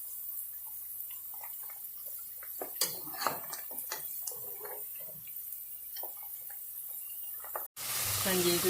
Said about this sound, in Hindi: तो देखें पोटैटोज जो हैं फ्राई हो गए अच्छे से।